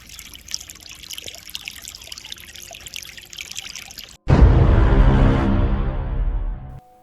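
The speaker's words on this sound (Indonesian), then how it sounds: "Dari kamar mandi terdengar suara air yang deras mengucur dari keran." Water gushes hard from a bathroom tap. The scene is quiet at first, then the flow starts abruptly and runs loud and steady for a few seconds before it stops suddenly.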